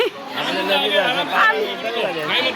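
Crowd chatter near the tiger enclosure at a zoo garden, a steady babble of many overlapping voices close by with a nearby speaker talking over it.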